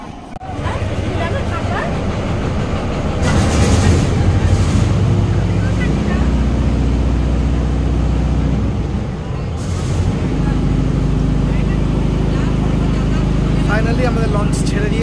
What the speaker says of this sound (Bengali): ফাইনালি আমাদের লঞ্চ ছেড়ে দিয়েছে, আমরা এবার যাচ্ছি ব্যারাকপুর।